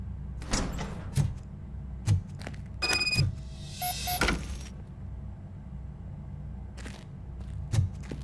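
A door opens in the video game RoboCop: Rogue City: a few mechanical thumps and a sliding, whirring motion, fairly close over a low ambient hum, with no talk.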